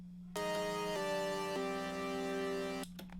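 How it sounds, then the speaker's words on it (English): Sustained modular synth chord from an Ableton Live preset, bright and harmonically rich, held for about two and a half seconds with a few re-triggered attacks, then cutting off into a short tail. "I have a modular chord that sounds like this"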